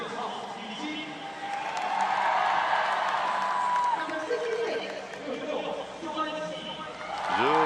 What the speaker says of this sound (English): getting a warm reaction from the crowd as well